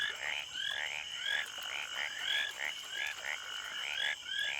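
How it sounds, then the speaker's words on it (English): Frogs croak in a steady repeating chorus, paired rasping calls pulsing roughly twice a second, moderately near and fairly quiet against a soft hiss, with no voices. "amphibians, namely frogs and toads, who are reputed to croak louder before rainfall."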